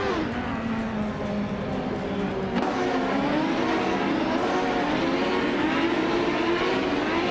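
Lola T9500 race car engines roaring steadily on track throughout, a continuous loud drone with shifting pitch as cars hold position, no voices.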